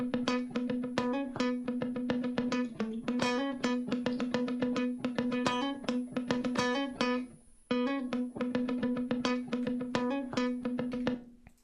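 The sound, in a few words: funky guitar sample from Big Fish Audio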